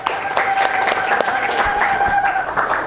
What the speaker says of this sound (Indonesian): Tepuk tangan buat kita semua yuk.